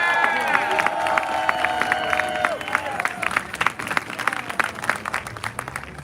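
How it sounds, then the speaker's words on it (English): Outdoor crowd at a New York City vigil clapping and cheering for a speaker, with scattered claps and whoops near and far, under lingering voices and tonal sounds early on that fade as the clapping continues. "So give a big round of applause to Ben Cohen."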